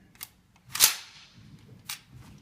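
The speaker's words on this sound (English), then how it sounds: "ride the bolt forward by pulling the cocking handle to the rear" An M249 machine gun's bolt rides forward as the cocking handle is eased back, giving a few sharp metallic clacks, one loud and close, with softer clicks before and after.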